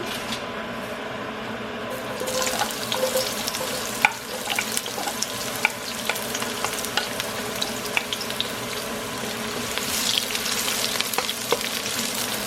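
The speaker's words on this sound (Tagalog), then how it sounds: "Natin ilagay yung onion." Onion frying in olive oil in a pan for Filipino pancit bihon, a steady broad crackling sizzle with scattered sharp pops and stirring clicks, close and fairly loud throughout with no talking.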